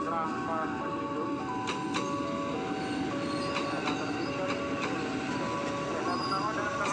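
Commuter train at Tenjo station, Indonesia, passing with a steady, continuous rumble and clattering wheels, punctuated by sharp metallic clicks and tonal screeching, fairly close and sustained throughout.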